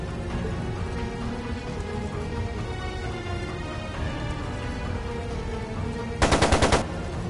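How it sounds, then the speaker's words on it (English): A machine gun in the game Trails of Cold Steel II fires one short, loud, rapid burst of closely spaced shots near the end, after several seconds of low background music and ambience. "It sounded like a machine gun."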